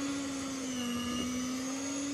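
An electric mixer beats ghee with a heaping spoon of powdered sugar, a steady close motor whine with a strong constant hum throughout, no talking.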